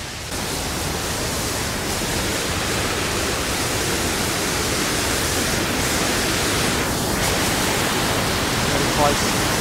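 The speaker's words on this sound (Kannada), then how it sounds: "ಫಾಲ್ಸ್ ಏನು ಸೂಪರ್ ಆಗಿದೆ" Hogenakkal waterfalls on the Kaveri river, a loud, dense, unbroken roar of falling water close by, steady for the whole stretch.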